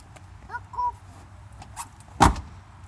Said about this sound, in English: now me shut the door.